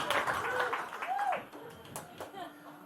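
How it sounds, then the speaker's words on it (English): A small comedy-show audience at a barbecue restaurant gives a short burst of clapping, quick and scattered, that fades after a second or so while a voice keeps talking over it. "Give Ashley Roberts a round of applause"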